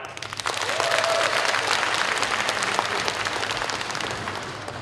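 A concert audience at a Yan Weiwen masterclass concert in Ma'anshan applauds the Henan Symphony Orchestra, a broad, sustained wash of many clapping hands rising quickly and holding steady, with no talking.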